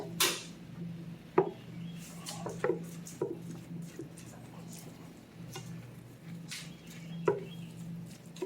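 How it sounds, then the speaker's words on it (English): Ground turkey for sloppy joes being stirred in a pot, with scattered knocks and scrapes of a spoon over a low background hum; sparse, uneven taps rather than a steady rhythm. "Let's just stir that around a little bit."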